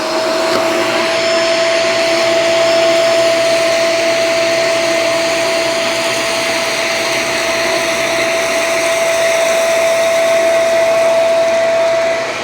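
A Shark Vertex DuoClean AZ2001AMZ upright vacuum runs continuously on a hardwood floor, a loud steady motor whine with a sharp high tone held throughout, no voices.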